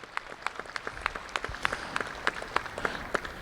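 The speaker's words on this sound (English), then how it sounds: "let's just give them a big old round of applause" Sparse, distinct claps from a small audience at a dairy cattle show ring, greeting junior champion Jersey exhibitors; individual hand claps are audible in an uneven rhythm, moderately close.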